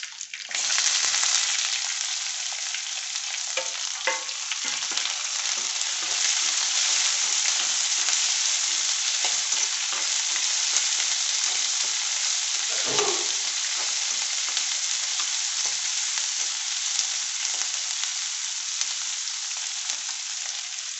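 Onions fry in oil alongside browned garlic, a continuous bright sizzle held close for the whole stretch, broken by soft stirring scrapes and an occasional clink.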